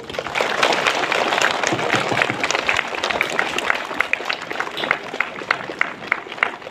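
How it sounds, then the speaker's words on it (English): An audience at a school's Vianney's Week inauguration applauds steadily with many overlapping claps, moderately close and sustained throughout. "Keep clapping your hands, all of you."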